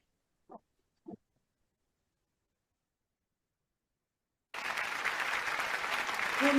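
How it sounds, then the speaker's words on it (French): A Toastmasters training audience breaks into applause for itself, a dense burst of clapping that starts abruptly after a near-silent pause and a couple of brief sounds, then keeps going at full strength. "je vous prie de vous applaudir vous-même."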